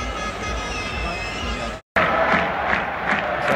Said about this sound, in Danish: Publikum er ikke videre opstemt over det i hvert fald.